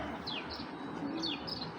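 Faint calls from a female racing pigeon, soft chirpy high notes and low murmurs repeating a few times over a quiet room hum, no voices.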